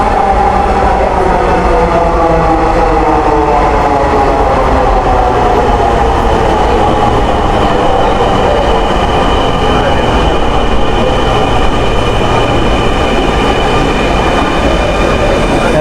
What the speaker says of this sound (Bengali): আপনারা দেখতে পাচ্ছেন যে মেট্রো রেল কিন্তু আসতেছে